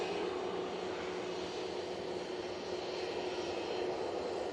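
An airliner departing Manchester Airport from runway 23 left, bound for London, produces a steady, distant roar of engine noise that holds evenly throughout without any voices.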